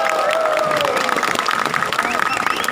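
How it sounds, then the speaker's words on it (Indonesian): A crowd claps in a dense burst of applause for a regent at a public gathering while a voice carries over it, lively and close. "Tepuk tangan untuk Pak Bupati."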